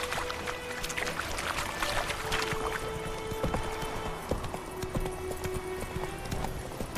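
Roach, a horse in The Witcher 3, trotting with a steady rhythm of close clip-clop hoofbeats, set against a soft ambient background.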